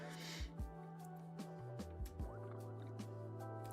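Dripping, gurgling water in the Satisfactory video game, soft droplet plinks and liquid trickles repeating irregularly over a low steady hum, with a voice partly audible.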